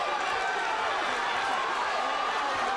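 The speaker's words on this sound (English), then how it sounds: "A very pro-FALOWO crowd here at Twin River." A large pro-Falowo boxing crowd at Twin River roars continuously through the whole stretch, a dense, loud wash of cheering fans with no break or quiet moment.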